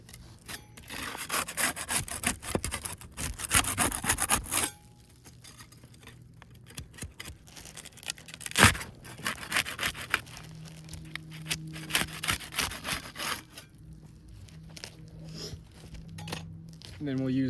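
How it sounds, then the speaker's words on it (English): A putty knife scrapes and pries under asphalt roof shingles to break their seal, giving bursts of rubbing, crackling scrapes with a sharp snap midway, mixed with faint talk and outdoor background. "We'll start with the putty knife. We'll use that to unseal the two top shingles here."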